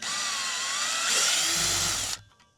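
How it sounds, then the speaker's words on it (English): Power drill whining steadily as it backs screws out of wooden A-frame framing, loud and close for about two seconds before the motor cuts off abruptly. "The more I'm drilling out these, they start popping out."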